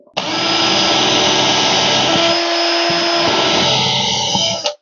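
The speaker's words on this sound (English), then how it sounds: "3mm drill bit." A power drill fitted with a 3mm bit runs in one loud, continuous whine for about five seconds during cabinet installation, the pitch dipping briefly midway before it stops.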